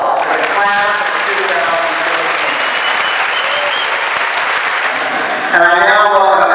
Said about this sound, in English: we can now have a round of applause for the class of